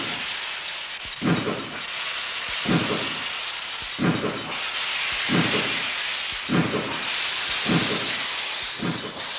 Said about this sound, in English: Steam engines evoke a special affection.